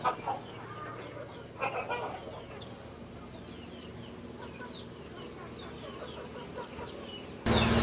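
Chickens and roosters in a backyard setup, with repeated clucking and calls scattered throughout at moderate distance over steady outdoor background noise, ending in a brief loud burst.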